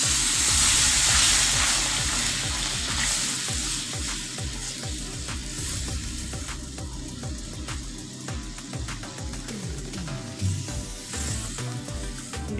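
Water is poured onto fried spice paste in a pan for a potato and brinjal curry. The result is a loud, dense hiss and sizzle that settles into steady bubbling, with no talk.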